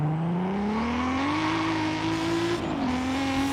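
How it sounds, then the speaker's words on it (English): A race car engine in Forza Horizon 5 drones loudly and steadily, its pitch climbing gradually, dipping briefly, then holding as the car revs onward. "Now the engine's working."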